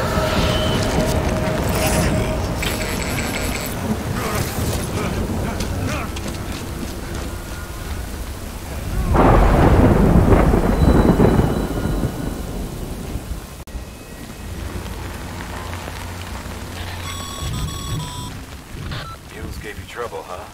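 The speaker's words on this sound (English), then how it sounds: "Good thing it was raining." Heavy rain hisses constantly through a thunderstorm in the video game Death Stranding, with a deep rolling thunderclap swelling near the middle. Game music and voices talk over the storm.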